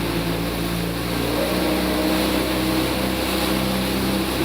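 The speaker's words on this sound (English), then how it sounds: "Push the throttle forward. Start to accelerate." Pontoon boat outboard engine throttled up on open water, a loud steady motor drone with a faint rise in pitch, close and continuous, no talk.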